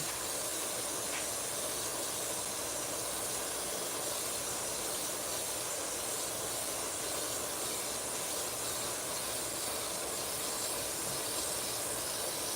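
Steady, broad hiss of a paint spray gun laying down tangerine candy paint in a custom paint session, continuous and close with no breaks for the full length.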